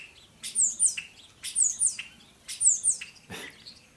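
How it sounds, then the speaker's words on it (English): A songbird calls outdoors on a January afternoon, three bright repeated bursts of high chirps about a second apart, fairly close and clear over a quiet background. "That bird's got something to say"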